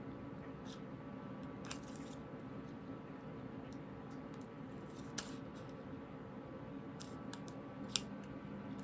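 Scissors snip out the top of a vintage paper doll's dress from paper, making a few faint, sparse crisp cuts spaced over a low, quiet background hum.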